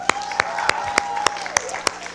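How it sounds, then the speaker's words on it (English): At a kids' summer night program, a small group claps for a child in a slow, regular beat of seven or eight sharp, evenly spaced claps, loud and close, with a thin sustained tone running behind. "Give him a round of applause."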